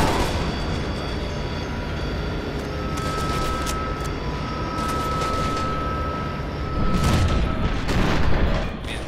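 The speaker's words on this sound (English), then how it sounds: "the explosion that comes out of this shotgun aim down sights when you're firing in slow motion is pretty goddamn intense" In FEAR 2, heavy blasts and booming explosions rumble during a tram ride, several sharp bursts breaking through a dense, continuous roar, the loudest near the end.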